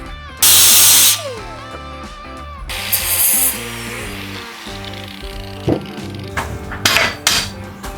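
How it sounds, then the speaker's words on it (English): Grinding on an exhaust part for a 1948 GMC pickup truck, with loud bursts of abrasive shrieking separated by clanks and shorter grinding passes in a shop. "Grind some more of the bottom of this thing off and it should work."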